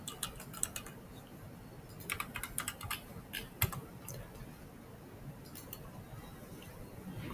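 Several quick, light keystrokes on a computer keyboard end with a key press for enter, heard close over a soft background hiss before the room falls quiet.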